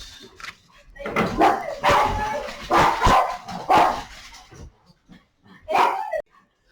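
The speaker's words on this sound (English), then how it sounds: "My son came home and the dogs decided to greet him." Several dogs barking excitedly as they greet someone arriving home indoors, loud and close, with bursts of barks mixed with yips and whimpers and short pauses between.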